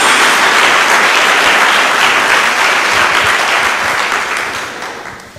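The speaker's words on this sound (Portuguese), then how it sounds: "dá uma salva de palmas a Jesus" Loud, sustained applause from a church congregation fills the whole stretch, dense and steady at first and then gradually thinning and fading toward the end.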